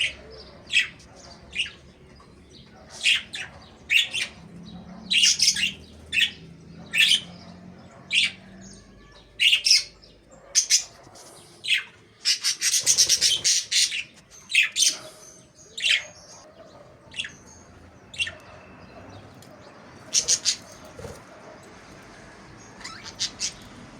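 Budgerigars chirp and squawk in a lively, continuous stream of short bursts, with several birds calling over one another at close range and no talking.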